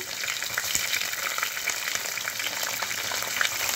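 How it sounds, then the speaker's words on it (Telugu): Green chillies spluttering and crackling in hot tempering oil with mustard seeds, cumin and dried red chillies: a dense, close sizzle with frequent sharp pops, steady throughout and heard alone. "ఇప్పుడు పచ్చిమిరపకాయలు వేసాను. బాగా పేలుతున్నాయి పచ్చిమిరపకాయలు అయితే."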